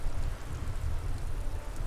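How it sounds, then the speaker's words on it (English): Steady rain in the Disco Elysium video game, an even, continuous hiss with low rumble, unbroken and without voices. "For now, we're gonna listen to the rain"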